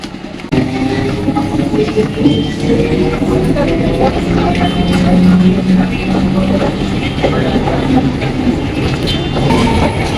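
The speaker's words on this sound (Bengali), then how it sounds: "ফাইনালি ট্রেন চলে গেছে" A train rolls past a railway level crossing near Taldi, a loud continuous rumble with wheel clatter, while voices talk nearby.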